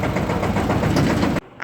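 A tractor engine runs at a steady, loud, close chug for about a second and a half, then cuts off abruptly into quiet.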